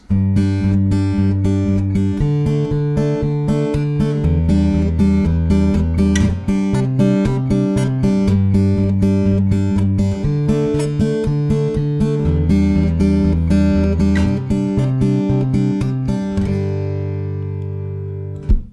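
Acoustic guitar plays a fingerstyle picking pattern up close, with a steady bass line under regular arpeggiated treble notes that shift through chord changes and fade out on a final ringing strum.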